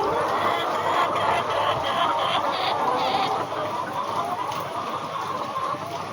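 Hens cluck continuously and fairly close on a layer poultry farm on a very hot day. Overlapping flock calls sit over a steady background hum, with no talk.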